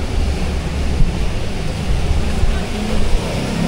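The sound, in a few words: beach waves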